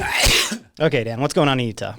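A sharp, loud sneeze at the start is followed at once by someone speaking close to the microphone in a podcast studio.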